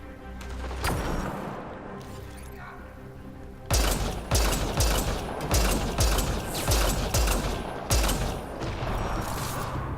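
Sustained gunfire in the shooter game Mass Effect: Andromeda, loud rapid bursts and booming shots layered over a dense, continuous combat din that intensifies partway through.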